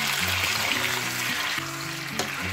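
Chicken hits hot oil in a pan and sizzles loudly and steadily nearby, with a dense hiss under some stirring clatter and a faint musical tone in the background.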